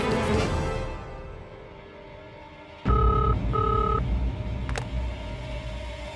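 A phone number is dialed: a quick series of paired electronic tones, then a steady two-tone ringing pulse repeats twice over a low background hum.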